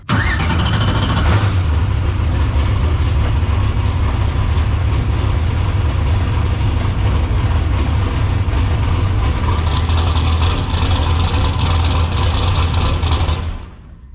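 Twisted T drag car engine fires up and keeps running, a loud, steady close-up rumble with revving that holds for about thirteen seconds before cutting off abruptly.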